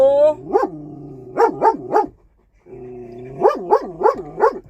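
A dog named Clyde barks sharply at a man walking past, firing off two rapid bursts of three or four loud, close yaps with a short whine at the start.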